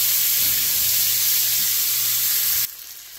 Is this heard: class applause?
no